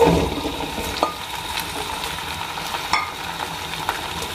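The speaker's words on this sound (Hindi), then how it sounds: "सबसे पहले मैं ये भिंडी फ्राई कर लेती हूँ।" Okra (bhindi) frying in about a quarter cup of mustard oil gives a steady, close sizzle with occasional sharp spoon taps and scrapes against the pan, and no voices.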